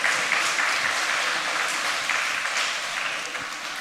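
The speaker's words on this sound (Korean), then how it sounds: "우리 초중등부 친구들에게 또 선생님들에게 격려 박수 한번 하도록 하겠습니다." A church congregation in Busan applauding the youth group students and their teachers during a Sunday morning service, a brief, even round of clapping that gradually softens.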